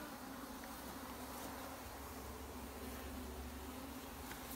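Wild honeybees buzz in a dense, continuous, faint hum around a hive being re-homed outdoors, a steady swarm drone with no voices.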